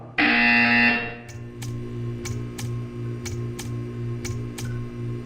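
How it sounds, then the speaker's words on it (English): A loud, sustained electronic buzzer from the video game Portal 2 sounds for about a second, then gives way to a humming background broken by a series of short, regular clicks. "You will hear a buzzer."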